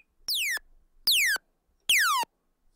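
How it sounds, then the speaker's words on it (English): A simple laser sound from a Massive synthesizer oscillator: three bright, separate zaps, each a quick downward pitch sweep lasting about a third of a second, evenly spaced, loud and clean with no talk. "Simple laser sound."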